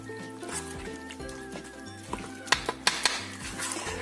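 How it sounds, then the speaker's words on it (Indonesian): Corn and flour batter stirred in a bowl for fritters, a spoon scraping and clinking against the sides in steady strokes, with a few sharper knocks near the end over faint background music. "Ini kita aduk dulu sampai tercampur rata semuanya."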